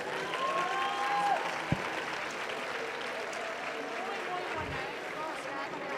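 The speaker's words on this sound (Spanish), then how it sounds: "Por favor, teachers, otro aplauso muy fuerte, por favor." Sustained applause from an audience of teachers at an education event in honor of a speaker on autism, a steady broadband patter of many hands with a brief thump partway through and no talk over it.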